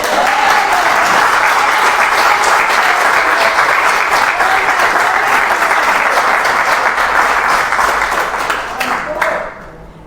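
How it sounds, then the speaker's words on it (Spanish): Loud, sustained applause from a church congregation, a dense continuous wash of clapping that holds for several seconds before tapering off at the end. "yo creo que se merece un aplauso"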